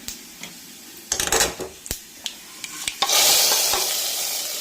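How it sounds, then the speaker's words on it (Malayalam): Mustard seeds fried in oil are poured into a curry, bringing scattered clinks and stirring scrapes from the pan, then a loud, close burst of sizzling that holds and slowly fades. "അപ്പോൾ ഇത് കടുക് വറുത്ത് ശരിയാക്കി ഇനി കറിയിലേക്ക് ചേർത്ത് കൊടുക്കുകയാണ്."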